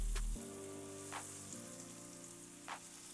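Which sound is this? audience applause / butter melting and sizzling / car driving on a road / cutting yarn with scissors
butter melting and sizzling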